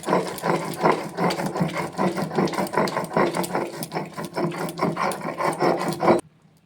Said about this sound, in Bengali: পটলটা বেটে নিচ্ছি